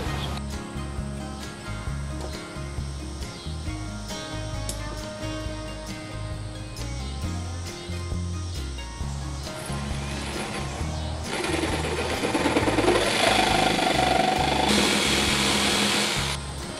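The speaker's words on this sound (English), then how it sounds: "I think we're going to go with Sawzall for the rest of these" A Sawzall reciprocating saw cutting a porch post, a loud, close, pulsing buzz with a rhythmic stroke pattern, growing harsher and louder toward the end as the blade bites deeper.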